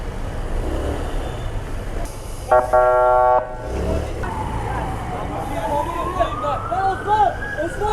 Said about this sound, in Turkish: Bak ambulans da geliyor